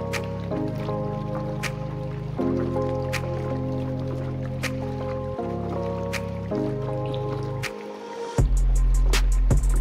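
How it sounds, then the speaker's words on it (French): Peeled macabo rinsed in water during traditional ndolè preparation, with sloshing, dripping and trickling water over a steady background hum, ending in a louder splash. "je vais laver soigneusement, surtout bien rincer à plusieurs tours d'eau"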